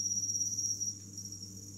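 Newly hatched crickets on a cricket farm give a steady, high, thin chirring that holds faintly through the whole stretch, with no talking.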